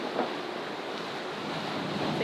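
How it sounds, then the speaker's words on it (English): Rough sea at the South China Sea, a steady broadband wash of surf and wind roaring continuously, close and fairly loud, with no voices. "Sea is getting rougher and rougher."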